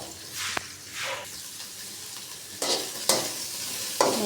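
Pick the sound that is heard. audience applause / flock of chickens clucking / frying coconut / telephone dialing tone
frying coconut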